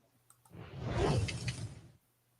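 Digital Upper Deck Matrix card pack opening effect: a single soft swelling whoosh that builds over about a second and a half, then cuts off cleanly, heard alone.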